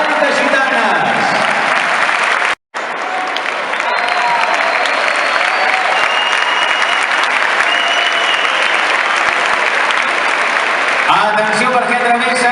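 Long, loud crowd applause for the Ball de Gitanes de Canovelles at the Granollers Festa Major proclamation ceremony, a continuous roar of clapping with a brief cut near the start and voices emerging toward the end.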